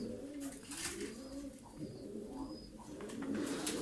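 Turkish tumbler pigeons give soft, low, repeated coos close by, a rolling continuous murmur from several birds with occasional faint chirps.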